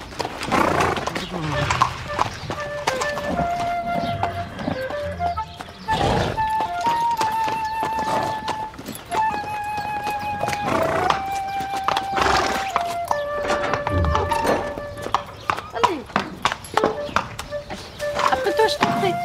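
A horse shifts in its stable box at the end of an aisle, with hoof clops and a whinny mixed under steady conversation and background music.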